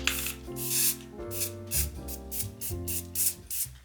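Matte sealant is sprayed from a can onto faux sugar cookies in a string of short, even hissing bursts, each lasting a fraction of a second, over steady background music.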